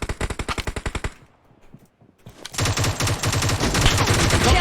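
Automatic weapon fire in PUBG Mobile, starting as a fast, even burst that cuts off, then a short lull, then denser and louder sustained shooting that carries on to the end.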